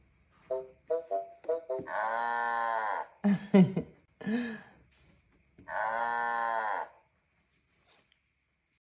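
Two long, drawn-out moos from a cow, close by, separated by some rustling and short clicking noises; no speech.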